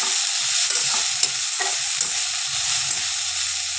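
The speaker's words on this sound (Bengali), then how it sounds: "যে কাঁচা লঙ্কাটা কুচি করে রেখেছিলাম এই লঙ্কাটা দিয়ে দিলাম। ভেজে নেবো ভালো করে।" Chopped green chili fries in a small amount of oil in a pan with a steady, close sizzle, and a utensil stirs it now and then.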